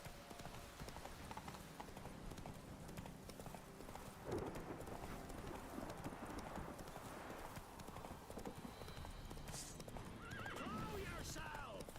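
Roach, Geralt's horse in The Witcher 3, gallops with steady clip-clop hoofbeats and lets out a clear neigh near the end, under game ambience with a voice talking over it.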